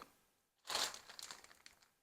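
A small plastic packet crinkles as it is opened up close, one loud burst of crackling followed by lighter intermittent rustles in a quiet room.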